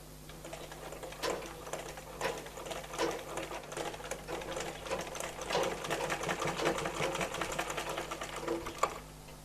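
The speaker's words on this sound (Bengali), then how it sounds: "এখন এই কাপড়টাকে পিছনের দিকে নিয়ে সেলাই করব" Sewing machine stitching the fabric of a baby frock, a steady close whirring rattle running almost throughout with slight surges in speed and a brief pause near the start.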